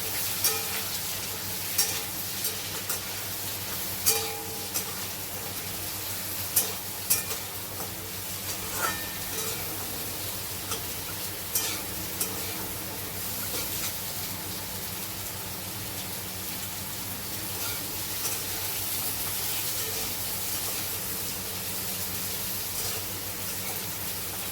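Sliced mangoes frying in a hot pan with a steady, close sizzle and crackle, broken by occasional light clicks of stirring or spatters.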